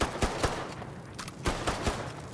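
Gunfire in the video game Mafia 3, a rapid series of sharp shots in quick bursts, loud and close, with no talk over it.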